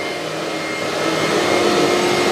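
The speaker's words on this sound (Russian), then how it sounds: "этим пылесосом показал, что он умеет" A HYLA vacuum cleaner running steadily indoors, a loud continuous whooshing roar with a constant motor whine that rises slightly in pitch, with no talking.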